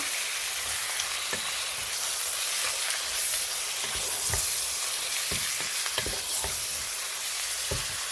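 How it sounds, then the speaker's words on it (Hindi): Goat meat hitting browned onions and white cumin in hot oil for a boneless choti boti salan, producing a loud, steady sizzle with scattered stirring clatters and no talking. "अनियन जो है वो लाइट ब्राउन होना शुरू हो गई है, तो अब मैं इसमें गोश्त ऐड कर दूंगी।"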